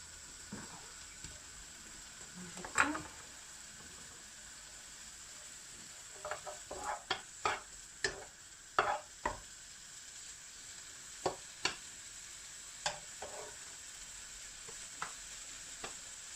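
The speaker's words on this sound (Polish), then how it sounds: "Już pomału zaczyna skwierczeć." Scrambled eggs sizzle quietly in a pan on a lowered gas flame while a utensil stirs them, sending sharp scraping clicks and taps at irregular intervals over a steady soft hiss.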